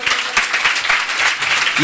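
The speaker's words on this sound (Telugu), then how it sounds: "చప్పట్లు కొట్టండి అందరూ." A church congregation at a Wednesday service applauds with dense, steady clapping that carries on for the whole short stretch, close and lively, with some voices mixed in.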